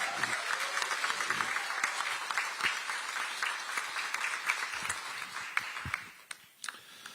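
Audience applause at a political rally for local elections, a steady dense wash of clapping from a sizable crowd that thins toward the end, with a few sharper individual claps standing out.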